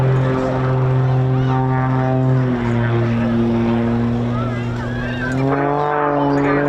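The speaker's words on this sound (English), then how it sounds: "He starts full throttling back down through his own smoke." A display aircraft at an air show throttling up in a dive, a loud steady propeller engine drone with strong harmonics that dips and then rises again, with a commentator talking over it.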